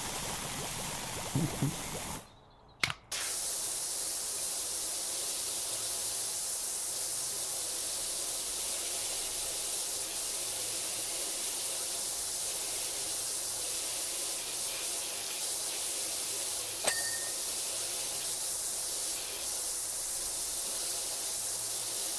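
A power washer sprays in PowerWash Simulator as a continuous loud, broadband hiss that runs almost unbroken. It cuts out briefly near the start, and a couple of faint clicks are heard, with no talking.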